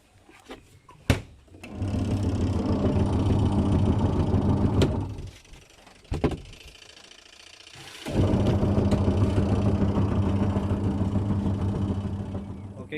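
A washing machine runs with its newly replaced drive belt, giving a steady mechanical whirring hum that starts, pauses briefly, then resumes and continues at a constant level.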